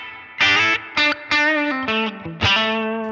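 An electric guitar plays a short phrase of separate plucked notes and chords through a Line 6 Helix long-decay reverb with slight distortion, each note ringing into a soft, spacious tail.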